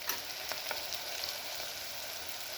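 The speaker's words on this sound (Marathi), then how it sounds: "ही फोडणी आपल्याला तेल सुटेपर्यंत भाजून घ्यायची आहे" Spiced tempering with turmeric sizzles and fries steadily in hot oil, a soft continuous crackle heard close up with no voices.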